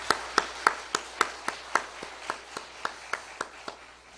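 A church congregation clapping in unison, about fifteen crisp, evenly spaced claps in a steady rhythm, moderately loud in a reverberant room.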